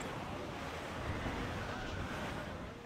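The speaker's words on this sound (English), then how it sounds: "Oh, we got ourselves a gust. We got a dynamic weather." Open-sea wind gust in Assassin's Creed Black Flag, a dense, steady roar of wind mixed with surf wash around a sailing ship, swelling slightly midway and holding loud throughout without any talk.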